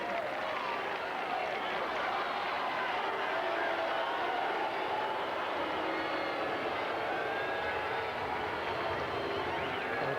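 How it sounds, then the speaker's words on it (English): A large tennis crowd at a 1994 US Open second-round match between Agassi and Forget murmurs and grumbles steadily after a line call, a dense, continuous wash of many voices. "The crowd doesn't like the call"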